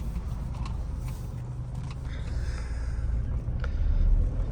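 Mahindra Scorpio Classic SUV pulling away, a low engine rumble building gradually and swelling louder near the end, with faint background noise.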